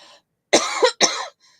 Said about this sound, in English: just got a bit of a cough there